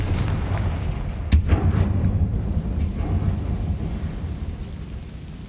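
A Confringo fire blast spell in Hogwarts Legacy bursts with a sharp crack and deep rumbling boom, followed by a second fainter blast and fading roar.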